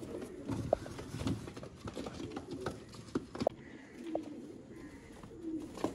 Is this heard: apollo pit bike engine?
no